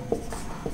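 Brief scratching of writing on a board during a lesson, two quick strokes, faint and close in a quiet room.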